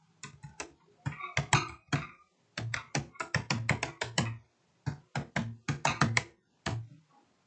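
Keys clack in quick bursts on a computer keyboard as a website address is typed into a browser search bar, crisp, close and alone, with short pauses between runs of keystrokes.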